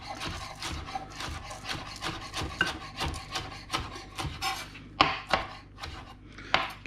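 A knife chops parsley and onions on a wooden board in a steady, close rhythm of crisp taps, a few strokes landing harder toward the end, while a ribeye is being cooked nearby.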